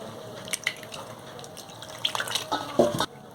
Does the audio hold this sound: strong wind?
no